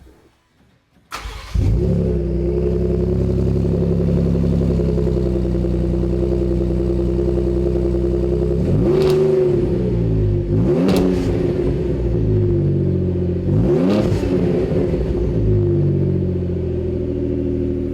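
Ford F-150 Raptor fitted with an aFe 3-inch stainless cat-back dual side-exit exhaust starts up, then settles into a loud, deep steady idle broken by three short revs, recorded close with no talking.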